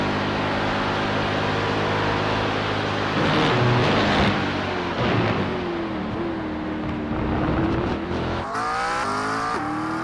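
An iRacing race car engine at Le Mans holds a loud, sustained high-rev whine that stutters against the rev limiter, then pitches up and down through gear changes over several seconds.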